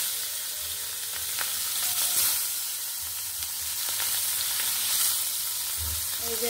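Rohu fish pieces frying in hot oil in a pan: a bright, steady sizzle and crackle that runs continuously, close and fairly loud, with occasional sharper spits and a soft stir or scrape.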